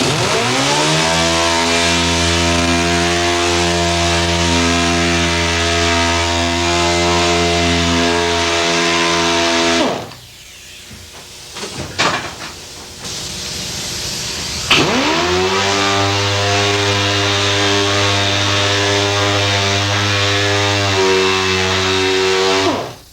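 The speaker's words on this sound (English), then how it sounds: "get the jitterbug out with some 40 grit paper and start sanding" A jitterbug sander with 40-grit paper works over plastic body filler on a car hood, a loud steady buzzing drone that cuts out for a few seconds midway and then starts up again.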